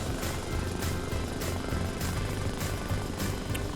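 A Little Bird helicopter in the video game Arma Reforger flies forward with a steady, dense rotor and engine thrum. The sound is continuous and fairly close, with a faint rhythmic beat and no talking.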